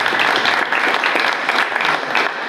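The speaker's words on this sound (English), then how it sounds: "I'd ask going forward that you hold your applause until the end of the debate" Audience applause at a Florida congressional district candidate debate, loud dense clapping filling the whole stretch, close and steady without speech.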